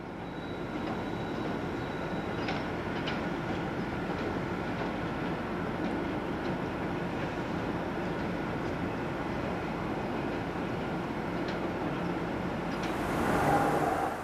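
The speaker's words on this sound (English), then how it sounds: "Swelling the numbers of locomotives on the stabling point quite considerably is this convoy of various shunting locomotives." A convoy of assorted shunting locomotives idles at a stabling point, producing a steady diesel rumble with faint clanks and a brief high squeal near the end, heard from a moderate distance.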